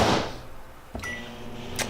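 A microwave oven being set to heat homemade meatloaf and vegetables: a soft door thud, a couple of short electronic beeps, then a low steady hum underneath.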